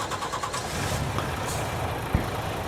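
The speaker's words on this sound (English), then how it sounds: "Engine sounds very good." A truck engine in Farming Simulator 22 turns over and settles into a steady low rumble, with a brief sharp knock near the end and no talking.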